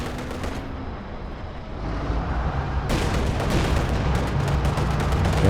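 Gunfire and explosions from a Company of Heroes 2 battle crackle in dense, overlapping bursts, with a sharp louder barrage partway through and continuous rumbling combat noise throughout.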